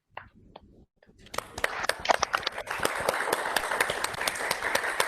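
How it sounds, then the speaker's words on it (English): Applause for a certificate presentation at an academic public-health webinar: a few scattered claps at first, then a crowd's dense, steady clapping building and continuing loudly throughout. "Okay, give applause."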